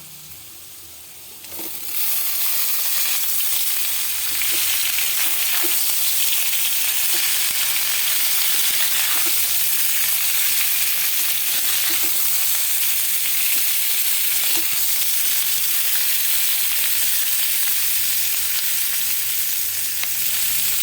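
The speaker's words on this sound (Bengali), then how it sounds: "আলুর সাথে ক্যাপসিকামটাকে আমি একটু ভেজে নেব।" Capsicum and potato pieces fry in a pan with a steady, loud, continuous sizzle and hiss that starts after a short quieter moment and holds at full strength to the end.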